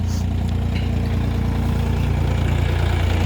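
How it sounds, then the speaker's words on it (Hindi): John Deere 5305 tractor engine idling steadily outdoors, a continuous low rumble with a throbbing rhythm, close and fairly loud throughout with no talk over it. "ऐसा जी लग रहा ट्रैक्टर की आवाज़ सुन के मंत्र मुग्ध कर दे ट्रैक्टर"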